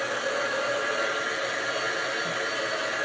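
Hair dryer blowing a loud, steady rush of air to dry a craft project, unbroken and close for the whole stretch, with no one speaking.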